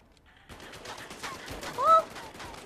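Gunfire in the WWII VR shooter Medal of Honor: Above and Beyond cracks in a few sudden bursts over a busy game background, with a brief voice near the end.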